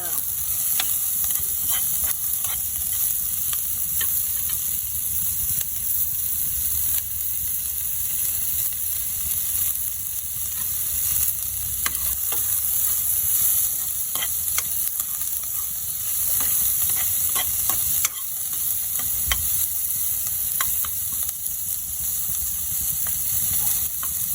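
Garlic sautés in a pan with a steady hissing sizzle, punctuated by frequent scraping, clicking strokes of a spatula as it is stirred, close and continuous throughout.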